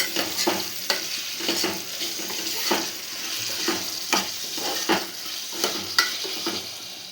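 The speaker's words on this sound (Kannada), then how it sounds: "ಇದು ಕಟ್ ಮಾಡಿ ಇಟ್ಕೊಂಡಿರೋಂಥ ಸಬ್ಬಸ್ಗೆ ಹಾಕ್ಕೊಂಡು ಒಂದೆರಡು ನಿಮಿಷ ಕೈ ಆಡಿಸ್ರಿ" Chopped dill being stirred into fried tomato in a hot pan, a continuous close sizzle with repeated spatula scrapes roughly every half second, steady and unaccompanied by speech.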